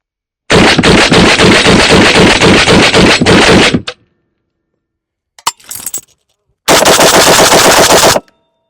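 A Century Arms BFT 556 AK rifle fed from a PSA magazine fires a long, loud, rapid automatic burst of about three seconds. A brief clatter follows, then a second burst of over a second.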